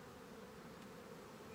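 Honey bees left in a nuc buzz in a steady, dense hum as they are moved into a hive, a faint, even drone with no voices.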